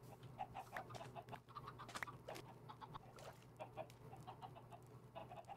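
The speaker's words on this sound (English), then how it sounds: "Why is there so many chickens out here?" Many chickens cluck and squawk together in the Minecraft modpack SevTech Ages, a busy overlapping chorus of short clucks over a steady low hum.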